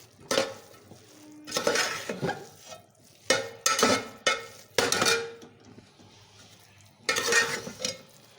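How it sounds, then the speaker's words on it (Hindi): Grated carrot halwa is stirred and roasted in a pan, with bursts of scraping and sizzling from a spoon working the mixture, separated by quieter gaps. "ये देखें ना, ये हम भुनाई कर रहे हैं"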